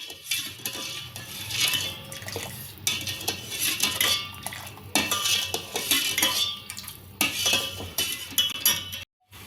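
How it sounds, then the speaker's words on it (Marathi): Moong dal halwa mixture with ghee and sugar stirred in a pan over low heat, a close metal spoon scraping and clinking against the pan in repeated uneven strokes, with no talking. "हे बारीक गॅसवर आपल्याला असं हे मिश्रण ढवळत राहायचंय।"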